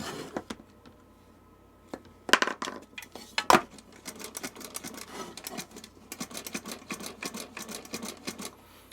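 A screw being driven into a sewing machine, a rapid series of small metallic clicks and ticks from the screwdriver, with a couple of louder clanks partway through, close and alone.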